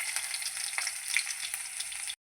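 Garlic fries in hot oil with mustard-seed tempering in a pan, a close, crisp sizzle with small pops and crackles running continuously before cutting off abruptly.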